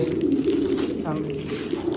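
Pet pigeons coo softly in a home loft, a low murmuring call rising briefly under a person talking nearby.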